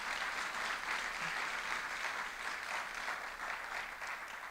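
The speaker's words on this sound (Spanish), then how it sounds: "Denle un aplauso al Señor." Steady applause from a church congregation fills the whole stretch, dense and even, with no voices rising above it.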